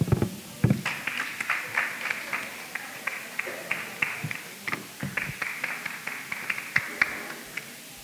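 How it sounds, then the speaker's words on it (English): A graduation audience applauds, with scattered individual claps building into a steady, close, rhythmic clapping that runs for several seconds, punctuated by sharp louder hits and faint murmurs beneath. "And don't only clap me, clap all the awardees."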